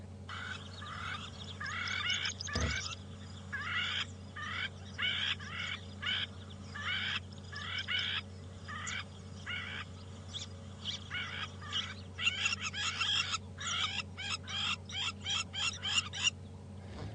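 Crowned plover calls repeat as sharp, scratchy bird cries in rhythmic bursts over a steady low hum, growing faster and more excited toward the end.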